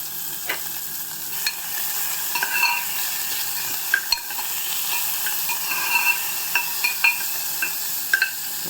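Ginger, onion and green chilli fry in melted ghee while a spoon stirs them, with a continuous sizzle and repeated clinks and scrapes of the utensil against the pan, close and fairly loud.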